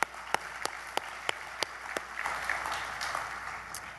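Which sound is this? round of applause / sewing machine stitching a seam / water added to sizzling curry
round of applause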